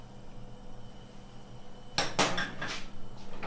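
Finely chopped onion is tipped into a pan with olive oil over medium heat. A quiet low hum gives way to a sudden clatter of utensil on metal and a brief sizzle.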